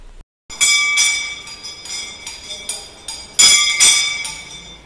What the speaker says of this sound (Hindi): तो मैंने यहाँ बजा दी है घंटी